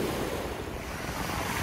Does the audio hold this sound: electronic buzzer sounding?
no